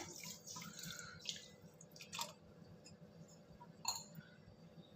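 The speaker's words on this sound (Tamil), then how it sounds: "சக்கரை முழுகிறளவு தண்ணி விட்டுட்டா போகிறோம்" Water poured from a tumbler onto sugar in a pan to make sugar syrup for a gulab jamun mix cake: faint, soft splashing and trickling with a few light clinks, heard close with no talking.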